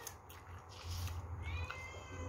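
A cat meows indoors, a close, drawn-out cry stretched over a couple of seconds against a low background rumble.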